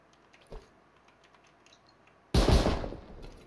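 Burst of automatic fire from an auto-turret during a Rust raid, sudden and loud after a quiet stretch with a faint earlier pop, continuing as dense rattling to the end.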